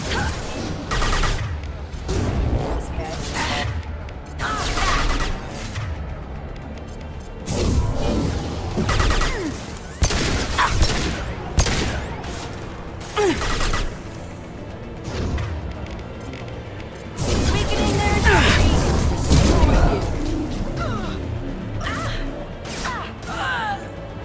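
Gunfire from the video game Mass Effect 2 comes as repeated sharp bursts and crashing impacts, loud and close, with short gaps between volleys and character voices now and then.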